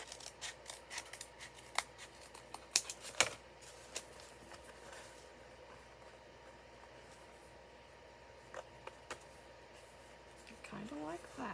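Scissors snipping through fabric hanging from the brim of a hat, a run of quick close crisp cuts in irregular bursts, quiet against faint room noise, with a few more snips near the end.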